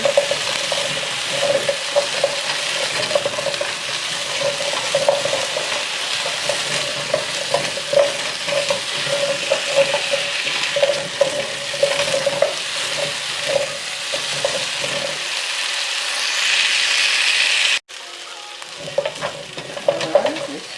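Brisket sizzles and fries steadily in a pan while being stirred, with a continuous hiss and soft scraping throughout, the frying dropping briefly quieter near the end before resuming.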